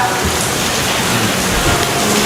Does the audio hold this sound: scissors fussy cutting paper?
no